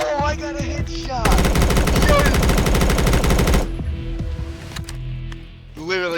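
Rapid automatic gunfire rattles in the video game BRM5, a loud sustained burst of about two and a half seconds, with game sounds and voices around it before and after.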